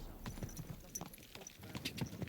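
A horse's hooves clip-clop in the medieval video game Kingdom Come: Deliverance 2, a faint, uneven run of soft thuds as the horse starts off, with light background noise.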